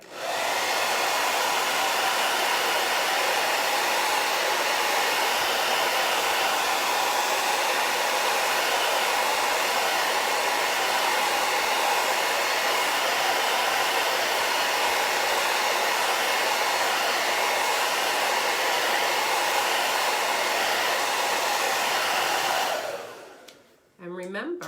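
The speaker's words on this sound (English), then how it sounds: "I'm going to blow dry this." A hair dryer blows steadily to dry chalk paste, a loud, close, continuous broadband whoosh lasting over twenty seconds before it cuts off abruptly near the end, with no talking.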